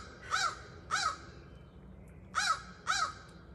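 A single crow caws loudly overhead in four harsh calls, two close pairs spaced apart, standing out over quiet outdoor background.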